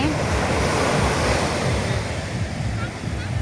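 Ocean surf rolls onto the shore at Marina Beach in Pondicherry around seven in the evening, a constant loud wash of breaking waves mixed with gusty wind rumbling on the microphone.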